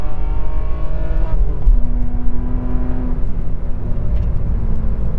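A 2009 BMW E92 328i with a custom exhaust accelerates hard, its engine note rising steadily in pitch, then a gear change drops it before it climbs again, loud and close with no talk.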